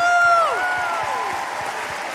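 An audience at a school house music event applauding steadily, with rising and falling whistles and whoops cutting through the clapping.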